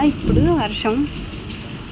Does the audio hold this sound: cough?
no